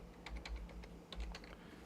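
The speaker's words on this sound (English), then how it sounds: "let's show you what I'm typing in" Fingers tap a computer keyboard in quick, uneven bursts of crisp clicks, close and quiet, with a short pause mid-way and no voices.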